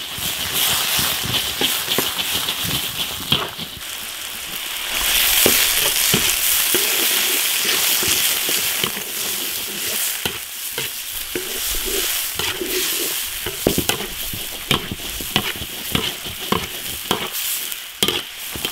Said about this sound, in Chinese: 先把肥肠爆炒，把那个多余的油脂炒出来。